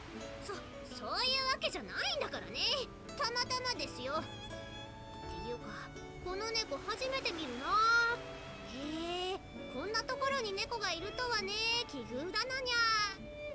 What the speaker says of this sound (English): black cat from the other day appears from somewhere or other, purring loudly